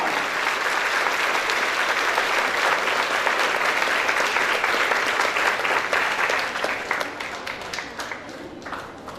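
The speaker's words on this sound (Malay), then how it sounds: "berikan tepuk tangan" Lively, sustained applause from a student audience at an academic forum on peace in Patani, thick and loud for most of the stretch before thinning toward the end.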